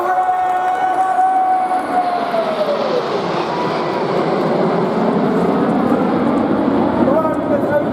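RAF Red Arrows aerobatic jets roaring past at over 400 mph, a loud continuous broadband rush with a descending pitch sweep as they pass, steady throughout under commentary.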